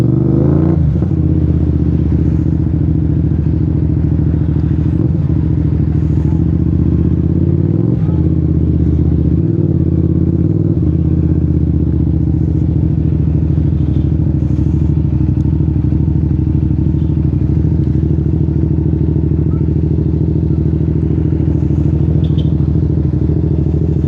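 A CFMOTO CLC 450 cruiser motorcycle on a test ride, its engine giving a loud, steady, low rumbling drone close by with a few shifts in throttle, accompanied by rushing wind and no clear talking.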